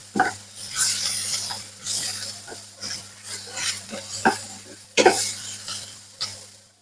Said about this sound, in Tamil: உப்பு சேர்த்து நல்லா கிளறி விட்டுக்கொள்வோம்